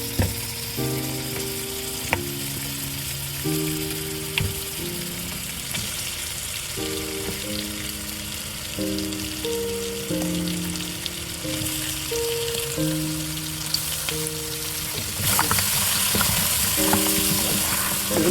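Mutton pieces frying with whole garam masala in a pan for yakhni pulao, a steady close sizzle with stirring scrapes, while instrumental music plays throughout.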